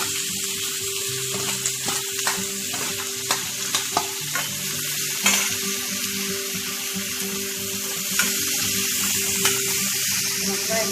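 Onions and curry leaves sautéing in hot oil with mustard seeds and urad dal for a South Indian cauliflower kolambu, a loud continuous sizzle with scattered sharp crackles and spatula scrapes, and a faint voice now and then.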